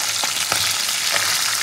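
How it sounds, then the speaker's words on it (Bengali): Pomfret fish frying one at a time in hot oil in a home kitchen, giving a steady close sizzle with a few brief crackling pops and no voices. "সব মাছগুলো কিন্তু এক এক করে ভাজা হয়ে যাবে"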